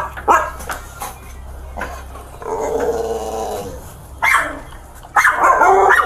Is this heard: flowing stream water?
no